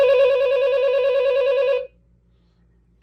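A Fun World 2011 Scream 4 Ghostface toy telephone rings in a short electronic burst of about two seconds, then goes quiet. A small click follows at the end.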